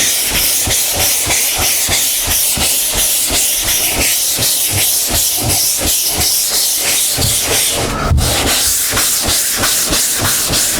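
Primer being block sanded by hand with sandpaper over guide coat, the block floating without downward pressure: a steady rhythmic rasp of quick back-and-forth strokes, close and loud, alone with no talk.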